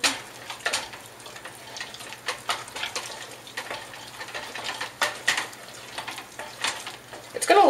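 Egg yolks with a little salt are whisked in a bowl, giving a series of irregular scraping and tapping strokes over a low steady hum.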